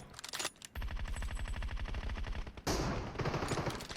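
Automatic gunfire in the video game PUBG Mobile, a rapid, loud, evenly spaced burst of shots lasting a couple of seconds, then a second heavier volley close by.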